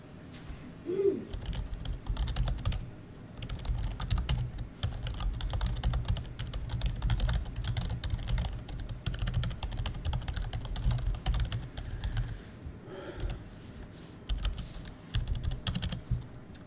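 Red Dragon computer keyboard being typed on, a rapid, continuous patter of clacking keystrokes with short pauses, close and moderately loud, with no speech.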